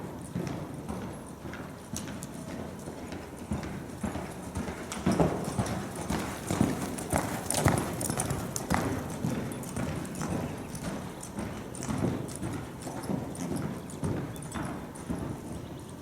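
A ridden horse's hooves clip-clop steadily and closely on firm ground for the whole stretch as it carries an unfamiliar rider and briefly breaks gait, with a faint whinny in the mix.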